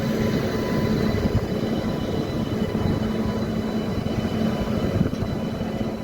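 The Narsapur Superfast Express passing and overtaking in the rain, heard as a steady, loud, continuous rumble and rushing roar from close by, with no talking.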